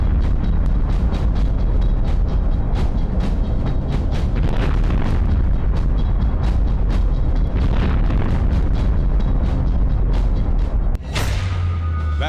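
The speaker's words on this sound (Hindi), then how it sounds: "रात के वक्त भी बाखमुत में धमाके नहीं रुकते" Bombs exploding at night in Bakhmut, where large bombs bring down buildings: a loud, dense barrage of booms and sharp blasts follows one another continuously, ending with one heavy close impact.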